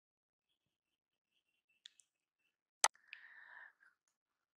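A computer mouse gives a couple of quiet clicks, followed by a single sharper click in a nearly silent room, with a faint soft rustle just after.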